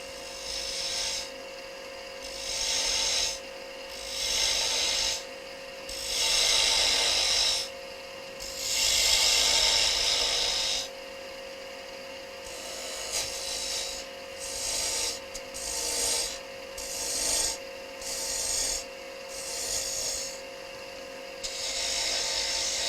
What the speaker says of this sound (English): I'm going to go with that 1/2 inch detail gouge again